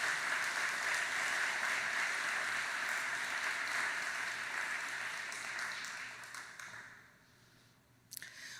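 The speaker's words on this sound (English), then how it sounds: "Let's give them a round of applause." Applause from an audience at a village address ceremony fills the room, steady clapping that fades out toward the end, followed by a brief clack.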